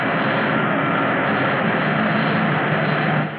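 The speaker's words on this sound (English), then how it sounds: "Give me 3G boost, Winky." Spacecraft engine roaring at full boost during ascent in a 1950s-style sci-fi scene, a loud, steady, dense rumble that holds without a break for the whole span.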